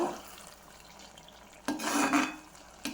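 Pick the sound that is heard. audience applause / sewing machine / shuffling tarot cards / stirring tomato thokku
stirring tomato thokku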